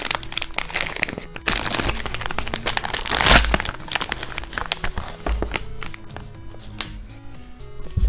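Plastic wrapping on the box of a budget Rubik's-type speed cube crinkles loudly and continuously up close, with dense crackling handling noise and no talking.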